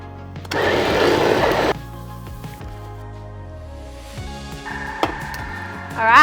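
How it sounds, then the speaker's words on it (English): A Thermomix whirs loudly as it blends soup stock, a dense burst of about a second, then a lower mechanical hum with clicks and beeps, and rising whistling tones at the end. "So let me get blending"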